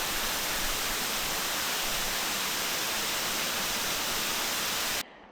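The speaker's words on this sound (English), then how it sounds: "the waterfall was just spectacular" Rushing water from a waterfall by a Scottish beach roars as a dense, steady broadband hiss, close and loud, then cuts off abruptly near the end.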